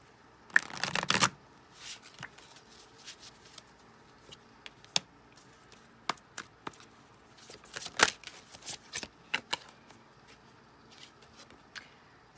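Tarot message cards being handled and shuffled in a general love reading, with a loud riffle near the start followed by scattered soft taps, slides and card snaps at irregular intervals, close and otherwise quiet.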